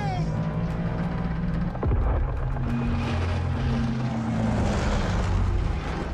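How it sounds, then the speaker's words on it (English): A propeller airplane engine drones in Call of Duty Vanguard, a steady loud hum with shifting tones and a rising whine, accompanied by voices talking. "Hopefully there's enough fuel in that plane."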